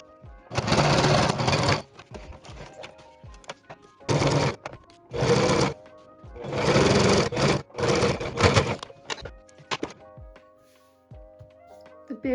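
A sewing machine stitches down the bib of a pair of overalls in several bursts of steady motor whirring, each run lasting one to two seconds with short pauses and faint handling noises between them.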